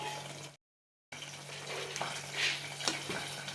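Bottle gourd masala curry gets stirred in a pan, a quiet scraping and gentle sizzle with a steady low hum, a brief dropout near the start and a soft clink of the spoon.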